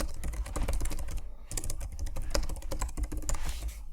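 Rapid typing on a computer keyboard while writing a Python print statement, a dense, fairly close stream of crisp key clicks with irregular rhythm and brief pauses, heard alone.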